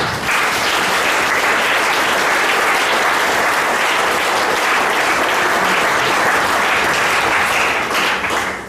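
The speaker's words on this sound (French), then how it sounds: "Acclame Jésus." A church congregation applauds Jesus at a French-language worship service, sustained dense clapping from a large crowd that stays loud and steady throughout, with a faint murmur of voices beneath.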